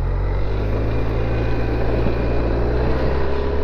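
A Honda Silverwing motor scooter rides along with a smooth, steady low engine drone and wind rush, close and constant over a few seconds with no voices.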